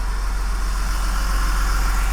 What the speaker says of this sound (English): There's no mistaking this for anything but an old diesel pickup truck.